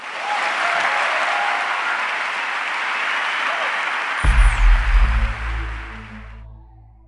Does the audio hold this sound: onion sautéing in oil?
no